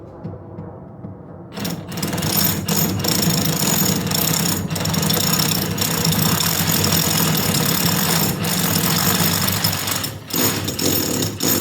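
A power drill bores a hole into a wall during a security camera installation, starting abruptly and running continuously as a loud, grinding hammering drone, close by, with brief dips near the end.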